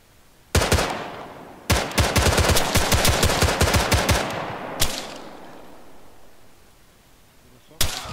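Gunfire in the military video game Arma 3: a single loud shot, then a rapid automatic burst of several seconds with echoing tails, a later lone shot and another near the end, no talk.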